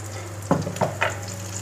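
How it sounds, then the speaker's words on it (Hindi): The white part of chopped onion frying in ghee, a soft steady sizzle with a few short scraping stirs, close and alone. "थोड़ा सा हम घी ऐड करेंगे और प्याज जो हमने काटा था वाइट पोर्शन वाला वो डाल देंगे।"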